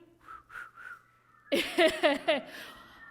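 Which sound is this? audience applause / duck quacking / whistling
whistling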